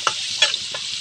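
Hotdog, carrots and bell pepper frying in a pan, with a few quick utensil scrapes over a bright close sizzle in a very short burst.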